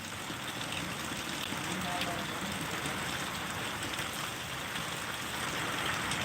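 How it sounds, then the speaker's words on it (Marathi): Heavy rain pours down steadily with wind in a village in Kinvat taluka, Nanded district, as a dense, unbroken hiss that fills the whole stretch with no pauses. "आज हे पाऊस आमच्या भागात पडत आहे"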